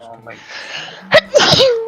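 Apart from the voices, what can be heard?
sneeze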